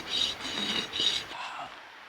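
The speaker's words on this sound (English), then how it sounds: "I've just been rasping it" A small piece of bone is worked with a rasp, giving short, quiet scraping strokes in a quick back-and-forth rhythm up close.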